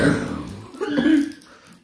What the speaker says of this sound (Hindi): लो जी खाते ही खांसी भी आ गई है